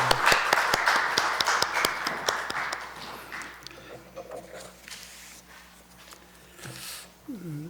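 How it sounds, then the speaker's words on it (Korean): Congregation clapping at a Sunday church service, a burst of sharp claps over the first few seconds that thins out, followed by quieter room sound and a voice speaking. "박수하겠습니다."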